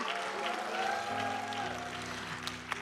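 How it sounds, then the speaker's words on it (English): Conference crowd clapping in a large hall, a steady wash of applause mixed with sustained music tones, fairly full and continuous throughout. "Give them all a big hand clap"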